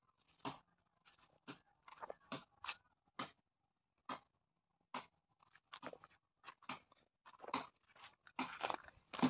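A dog chews and crunches pieces of fish in a village home, close and distinct, with irregular bites and gnawing bursts separated by brief silences.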